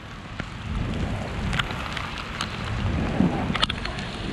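Heavy rain pours onto an outdoor futsal court in Shibuya during a sudden downpour, a dense, continuous hiss with scattered sharper splashes and taps close by, heard alone without talk.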